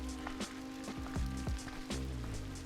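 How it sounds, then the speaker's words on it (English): Hail falls outdoors in a dense, steady patter of small hard impacts, with scattered louder hits and low rumbling handling noise close by. "it starts to hail."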